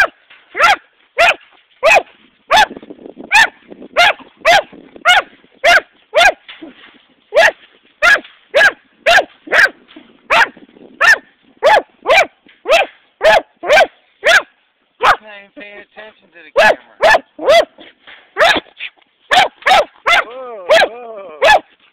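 A dog barks repeatedly at a rock chuck, loud and close, in rapid regular bursts of sharp barks with brief pauses and a few whimpering yips between them.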